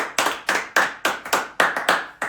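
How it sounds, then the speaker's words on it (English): Sharp, separate hand claps, about eight in a loose rhythm, each one loud and close with a quick decay. "Clap it up."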